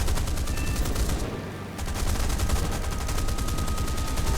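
Cannons on a Boomerang Mk I aircraft fire in War Thunder as a rapid, continuous rattling burst, briefly pausing for under a second before resuming, loud against the engine drone.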